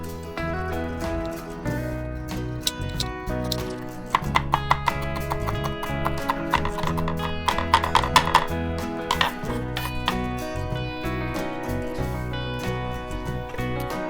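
Half a white onion diced with a knife for pico de gallo, a steady run of quick, close chopping taps on a board, heard under loud background music.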